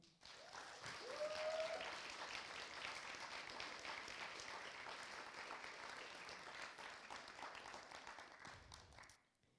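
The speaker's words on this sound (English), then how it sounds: "A round of applause for all of them" Sustained applause from an event audience greeting a hospitality team at a community talk, steady and moderately loud for about nine seconds before cutting off abruptly.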